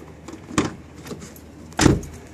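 Infiniti G35 car door lock actuating from the key fob, heard as two sharp mechanical clunks about a second apart, close by over a quiet background.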